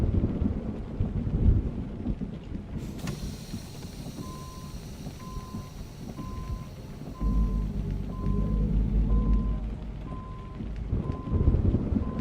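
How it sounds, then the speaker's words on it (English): Rainstorm with thunder in American Truck Simulator, a steady wash of rain and rumbling low thunder swelling and fading throughout, with a faint repeating beep in the background. "3 a.m. and raining."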